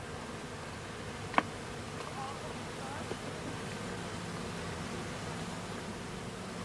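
Honeybees from a swarm buzz around a swarm box outdoors at an apiary, a steady faint drone with no talk.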